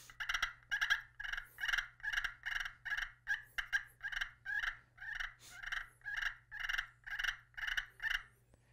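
A duck call imitates the fighting purrs of male ducks in a brisk, evenly spaced series of about twenty rolling bursts, close and clear over a faint low hum.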